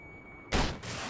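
A rocket launcher fires in Battlefield 4 on the test range, one sudden loud broadband blast that booms and then rolls into a sustained rushing roar, with no talk over it.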